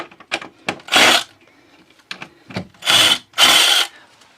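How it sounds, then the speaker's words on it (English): A power drill fitted with a worn drill bit runs in short bursts, several brief close whirs and grinding spurts with pauses between, ending in two longer loud runs. "It's time for a new drill bit."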